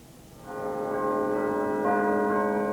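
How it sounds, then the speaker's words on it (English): Church bells ring out in a steady, loud din as people leave a church, the tones swelling and sustaining over a faint background murmur. "Patsy and John Ramsey came out of church into a din of bells and a wall of silence."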